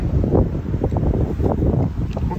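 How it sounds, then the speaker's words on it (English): Wind gusting outdoors at a backcountry campsite in Algonquin Park, a steady loud rumbling buffet against the microphone that fills the whole stretch with no talk. "it's probably too windy to be filming this"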